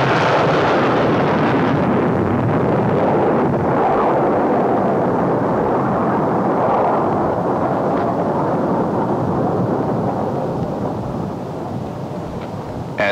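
A Black Brant rocket blasts off with a loud, sustained rumbling roar that holds heavy and continuous before slowly easing as it climbs away.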